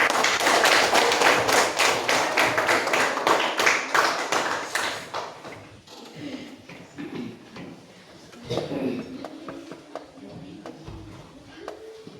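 Students in a classroom clap together in a dense burst of applause for about five seconds, then it fades into quieter room noise with scattered thuds and shuffling.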